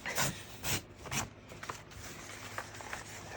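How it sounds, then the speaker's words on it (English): A strip about a quarter inch wide is torn off an art journal page: a few rough ripping bursts up close, then softer scratchy rustling. No voices. "I'm going to try and tear 1/4 of an inch off of this."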